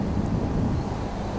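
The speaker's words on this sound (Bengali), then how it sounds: "ঠান্ডা ঠান্ডা বাতাস হচ্ছে" Cool wind blows across a highway as a brief, steady low rumble of buffeting against the microphone, with no voices.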